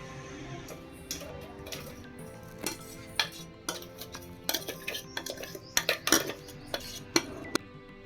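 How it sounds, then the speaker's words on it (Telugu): A spoon stirs grated raw mango chutney in a bowl, giving scattered metallic clinks and scrapes against the dish, close and fairly quiet, with irregular taps growing busier toward the middle. "ఇప్పుడైతే మంచిగా మెల్లగా అయితే ఇలా కలిపేసుకుందామండి."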